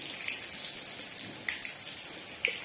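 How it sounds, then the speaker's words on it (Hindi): Vegetable cutlets deep-frying in hot oil give a dense, steady hiss and sizzle with a few sharp pops, close and uninterrupted. "मैं दोबारा से डालूंगी और इनको भी फ्राई कर लूंगी"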